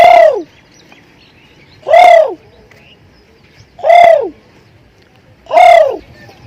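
Imitating a dove, a voices four evenly spaced cooing calls, each a short loud hoot with a falling tail, separated by quiet gaps.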